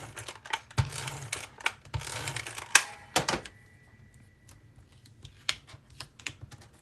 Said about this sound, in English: I forgot to do that with an adhesive sheet, so I'm just going to use my tape runner